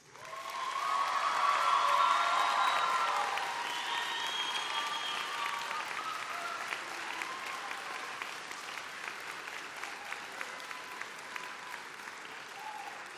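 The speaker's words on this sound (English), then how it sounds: "Graduates, please take a moment and thank them with your applause." A graduation audience breaks into sustained applause that swells in the first few seconds and then carries on steadily as a dense, even patter from a large crowd.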